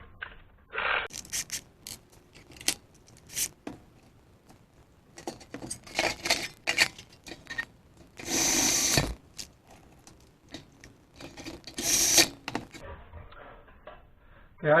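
Screws are driven into the tin flange of a turbocharger on a Case 9240 combine, with bursts of power-driver whirring separated by clicks and metallic rattling.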